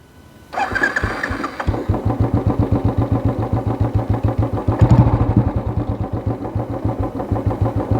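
A 2013 Royal Enfield Bullet Electra 350 starts up nearby and settles into its loud, lumpy single-cylinder idle, with evenly spaced exhaust thumps and a brief rev in the middle.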